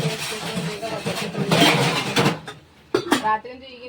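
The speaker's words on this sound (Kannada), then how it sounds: "ಈಗ ಭಾಂಡೆ ತೊಳ್ಕೊತೀನಿ ನೋಡ್ರಿ" Pots and steel dishes being washed by hand in a home kitchen, with clanking metal, scraping and rattling knocks that come in bursts under a woman's chatter, then a short quiet pause before more clattering.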